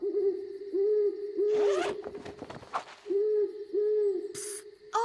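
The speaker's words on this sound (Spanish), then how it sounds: "Fue solo un búho ululando." Repeated hooting of an owl at night in a jungle setting within a cartoon, several evenly spaced hoots standing out clearly alongside a brief rustling or zipping noise in between.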